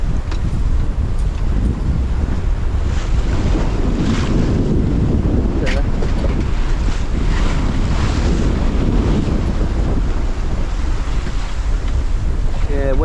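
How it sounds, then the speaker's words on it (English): Big ocean waves and strong wind at sea on a sailboat passage from Fiji to Vanuatu during a cold front: loud, continuous wind roar buffeting the microphone, with repeated wave surges and splashes, no voices. "Yeah, waves are quite big."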